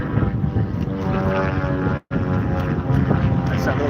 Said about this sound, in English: that's that little kit plane again.